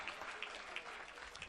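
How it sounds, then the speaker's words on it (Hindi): Faint applause from a mushaira crowd during an award presentation, scattered claps rising and falling at a distance with no voices heard. "तालियों का नजराना।"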